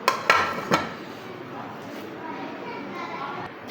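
Cooked long-grain rice being dished out from a pot onto a plate, with a few sharp clinks of a spoon against metal near the start, then a steady soft scraping and rustling under faint background voices.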